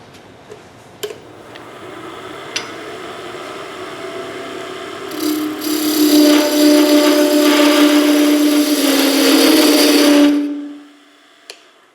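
A skew chisel cuts wood on a lathe, starting as a light scrape and moving onto the bevel, with the close, loud, steady cutting hiss and rumble building for several seconds before stopping abruptly, preceded by a few sharp ticks.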